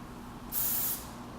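A single short burst of hairspray from an aerosol can, close and hissing for about half a second against quiet room tone.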